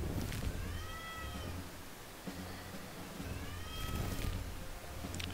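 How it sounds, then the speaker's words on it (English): An 18-year-old cat meows twice, faint and drawn out, against a steady background hiss and low rumble. "this cat is annoying, man. Complaining for no reason."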